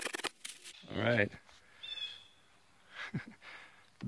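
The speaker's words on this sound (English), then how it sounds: "The birds are talking about us." Forest birds give a few short, scattered calls, one clear warbling cry followed by fainter chirps at middle distance, amid quiet rustling and a person's soft voice.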